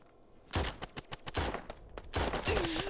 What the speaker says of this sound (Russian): Так, наши ребята уже там стреляются.